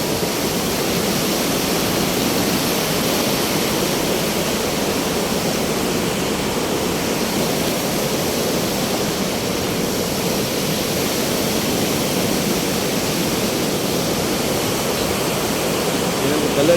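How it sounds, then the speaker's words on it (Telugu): Fast-flowing glacial meltwater of the Sindhu river rushing past a riverside cottage on the Amarnath Yatra route, a steady, loud, unbroken roar of water filling the whole clip with no letup. "చాలా స్పీడ్గా వస్తుంది వచ్చే వాటర్."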